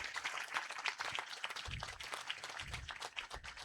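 Scattered applause from an audience at a central jail event with a visiting High Court judge, fairly faint and uneven with a few thumping low bumps among the claps.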